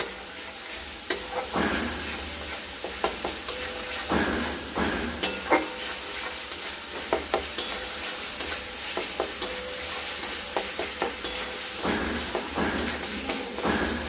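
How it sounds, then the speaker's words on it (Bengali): Spice masala sautéing in a pan for a banana flower curry with potato and pointed gourd: a continuous sizzle broken by repeated sharp scraping stirs of a spatula, close and fairly loud, with no voices. "দিয়ে মশলাটাকে আমরা ভালো মতো করে কষে নেব"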